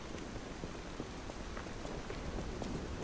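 Rain falls steadily in the video game Lies of P, a soft, even hiss with faint scattered drops and no voices.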